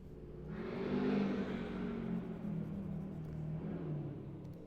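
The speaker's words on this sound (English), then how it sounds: "People around here love hearing their big trucks make lots of noise." Big trucks rev outside, a loud, steady low rumble of engines swelling early and holding through, with no talk over it.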